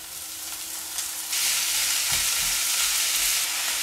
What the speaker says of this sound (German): Und jetzt können wir den Sauerkraut reingeben.